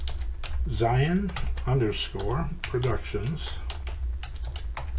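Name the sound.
typing on a computer keyboard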